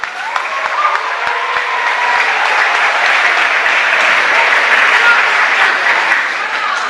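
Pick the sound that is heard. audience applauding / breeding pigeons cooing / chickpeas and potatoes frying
audience applauding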